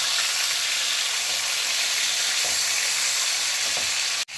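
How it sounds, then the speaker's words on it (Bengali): Fish sizzling in hot oil for a spinach and orata fish curry cooked with tomato, a steady dense hiss throughout at close range, cutting off abruptly near the end. "তেল গরম হয়ে গেছে, মাছটা দিয়ে দিচ্ছি।"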